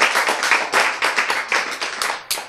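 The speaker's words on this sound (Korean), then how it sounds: "박수!" Rapid, close clapping from a small group at a Bible lecture, uneven bursts of hand claps over a couple of seconds that taper off.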